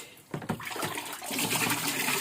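Ordinary lukewarm water pours into a basin, starting with a few splashes and then settling into a steady rushing flow that grows fuller and louder. It is close by, with no talk over it.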